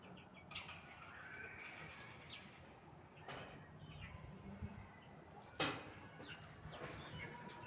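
Soft clucking and chirping from chicks and chickens on a farm in Wafra, Kuwait, against a steady outdoor background, with a few brief sharper squawks and flutters scattered through.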